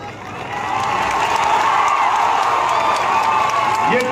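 Crowd at a political speech gathering breaking into clapping and cheering that swells and holds steady, a dense, loud wash of applause mixed with shouts.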